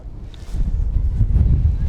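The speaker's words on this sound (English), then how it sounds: "the gust has picked up now" Low, buffeting wind rumbles against the microphone, rising into a stronger gust toward the end.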